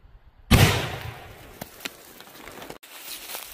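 A single sharp rifle shot from a 123 grain Hornady Interlock bullet striking a jug, loud and close, then a fading rumble and faint scattered pops.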